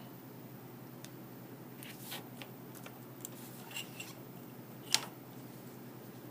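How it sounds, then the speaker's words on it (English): A strip of duct tape is snipped in half with scissors, giving a few faint, quiet cuts and a single sharper snip near the end, with no talking. "And cut it in half."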